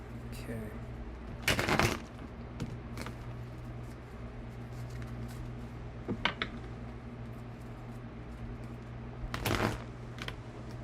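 Two or three brief papery riffles of tarot cards being shuffled against a steady low hum, with a soft tap between them.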